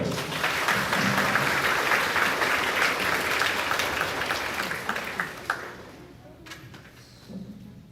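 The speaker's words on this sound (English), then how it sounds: "Give him a round of applause" Applause at a grades 4-6 school awards ceremony for the PE teacher, full and sustained for several seconds before fading out, followed by a couple of soft thumps and a brief murmur.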